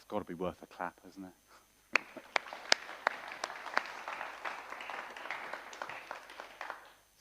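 Applause from an audience breaks out after a brief spoken line, a steady patter of many hands clapping with a few sharp louder claps, continuing to the end.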